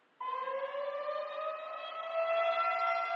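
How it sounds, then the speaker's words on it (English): A loud, steady tornado siren wails continuously, its layered tones holding and swelling slightly toward the end, with no voices. "The tornado siren sound."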